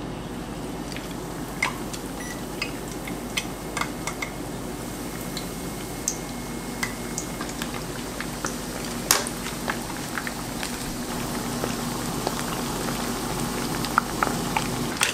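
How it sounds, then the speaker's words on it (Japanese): Breaded abalone cutlet coated in fresh panko deep-frying in hot oil, giving a steady crackling hiss scattered with sharp pops and spits throughout, close and fairly quiet, with no talking. "じゃあ揚げていきます。"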